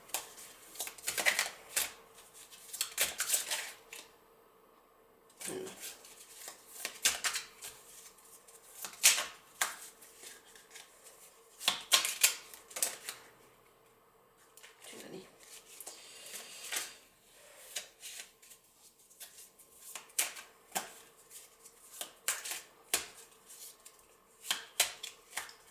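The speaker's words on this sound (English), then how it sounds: "let's see what kind of other cards Tarot has for you" Tarot cards are shuffled close up in repeated bursts of crisp riffling and flicking, with short pauses between rounds and no talking.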